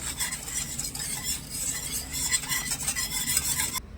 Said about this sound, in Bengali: গুঁড়ো দুধটা একটু ভালো করে মিশিয়ে নেব আর চিনিটা ভালো করে একটু নেড়ে ছেড়ে গলিয়ে নেব